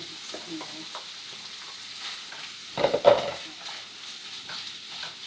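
Ground chorizo browns in a pan with a low, steady sizzle, and a brief burst of louder stirring and scraping comes near the middle.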